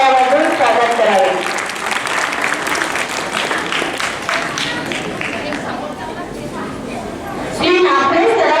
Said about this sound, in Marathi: त्यांचे सर्वांनी जोरदार टाळ्या वाजवून स्वागत करावे.